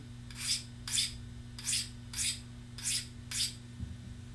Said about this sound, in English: That's how you sharpen a Woodsman Broadhead.